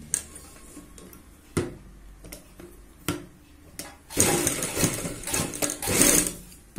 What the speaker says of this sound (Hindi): यहाँ पे सिलाई लगाते हुए चलेंगे